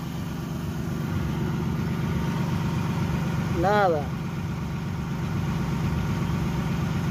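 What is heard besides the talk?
car six-cylinder engine idling after distributor installation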